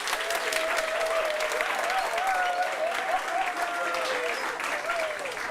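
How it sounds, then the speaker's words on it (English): An audience at a health and climate event claps and cheers steadily throughout, with dense applause, a few shouted whoops and voices mixed into the crowd noise. "clap and cheer now."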